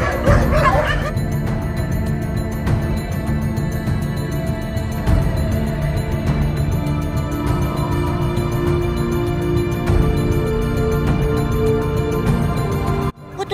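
Several dogs at a cemetery site bark and yip continuously in a noisy, dense chorus, with some whimpering mixed in and a steady background hum throughout.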